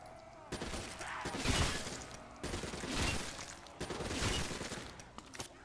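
Assault rifle fire in Black Ops 3 Zombies on The Giant map, sustained bursts of rapid shots in three waves with dense crackling echoes, fairly quiet in the mix, no voices over it.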